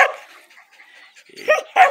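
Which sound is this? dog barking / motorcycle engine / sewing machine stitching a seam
dog barking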